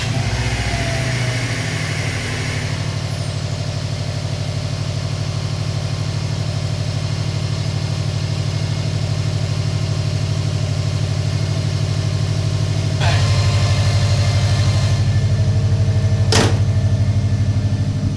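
A 2013 Subaru STI with its EJ25 engine runs steadily at idle after a spark plug change with the silencer removed, a loud constant rumble throughout, with a brief sharp clunk near the end.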